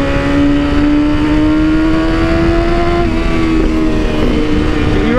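A BMW S1000RR sport motorcycle on the highway, its engine droning loud and close with a steady rising whine and rushing wind, no talking.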